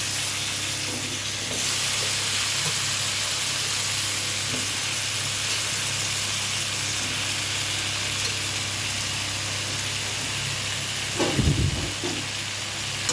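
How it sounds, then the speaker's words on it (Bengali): Cut pumpkin and potato fry in a pan, giving a steady close sizzle and hiss throughout, with a brief louder burst of spattering near the end and no talk. "এভাবে কেটেছি কুমড়ো আর আলু আমি দিয়ে দিলাম।"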